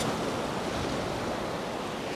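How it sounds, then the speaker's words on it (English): Ocean waves roll up onto a beach in a continuous broad wash of surf, close and steady, mixed with some wind noise and no voices. "we made it to the beach, and the water is coming in, and I am gonna get soaked"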